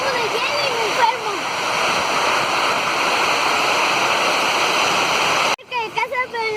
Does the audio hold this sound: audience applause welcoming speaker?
no